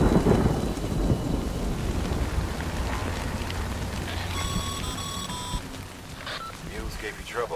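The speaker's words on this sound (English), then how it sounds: "Good thing it's raining." Steady rain and rumbling thunder fill a stormy scene in the video game Death Stranding, a dense wash of noise with brief electronic beeps partway through.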